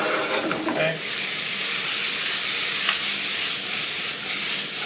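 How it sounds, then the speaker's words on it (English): Onions sautéing in melted butter in a hot pan, giving a steady, close sizzle and hiss that runs unbroken for several seconds, with a brief stir or toss near the start and a voice speaking over it. "Okay, our butter's mostly melted, so let's throw in our onions."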